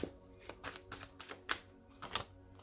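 A tarot card drawn from the deck and laid onto the spread, a run of soft, crisp taps and light slaps of card on card coming close and quiet in an otherwise still room.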